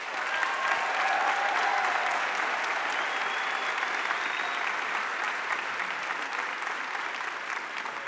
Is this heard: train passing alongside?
no